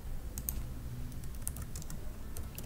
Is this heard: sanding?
no